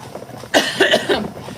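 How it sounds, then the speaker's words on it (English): A single person coughs in a short, harsh burst of a few hacks, close to the mic in a home setting. "It happened again with the cough."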